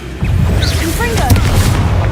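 A Confringo blasting spell explodes in Hogwarts Legacy, a loud, booming burst with a rumbling tail, while a voice calls out over it.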